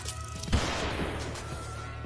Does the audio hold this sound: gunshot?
yes